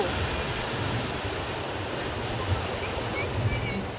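Sea waves breaking on the beach at Digha, a steady broad roar of surf mixed with wind rumble against the microphone, continuous and fairly loud with no distinct speech.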